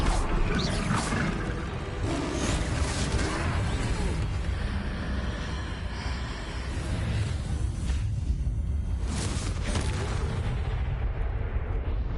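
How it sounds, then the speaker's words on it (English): A troll in Hogwarts Legacy lets out deep, rumbling roars over heavy low-end game noise, with two louder surges near the start and toward the end, and no talking over it. "A second troll"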